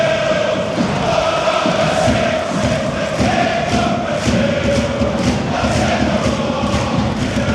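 Loud, continuous roar of Arsenal away supporters in a Champions League stadium, a massed crowd chanting and cheering with rhythmic pulses and thumps throughout, heard from close among them.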